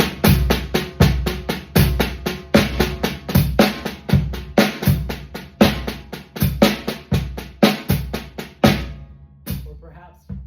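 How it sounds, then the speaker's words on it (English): Drum paradiddles played in steady eighth-note triplets, a dense stream of evenly spaced sticking strokes with regular accents, loud and close, stopping shortly before the end with a brief ringing decay. "playing paradiddles in a rhythmic subdivision of 3 to the"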